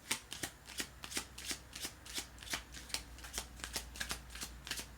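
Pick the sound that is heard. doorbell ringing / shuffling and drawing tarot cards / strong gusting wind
shuffling and drawing tarot cards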